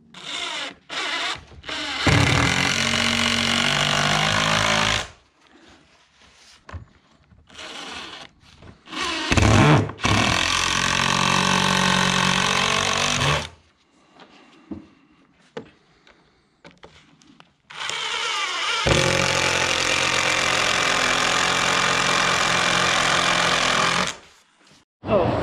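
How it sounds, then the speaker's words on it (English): A power driver sinks screws into the siding of a shed door in long whirring runs. The runs are broken by short pauses, clunks and handling noise, and the sound is loud and close. "So now I'll throw some screws in, toenail them into the sides here"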